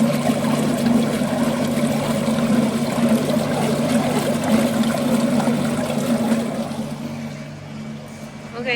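Steady running water pouring into the water tank of a 20-litre vacuum emulsifying mixer alongside a constant mechanical hum, continuous and fairly loud, easing off slightly toward the end.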